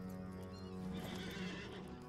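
A horse in the Lord of the Rings Online video game gives a long, clear neigh over clip-clopping hooves, close and steady, with no talk.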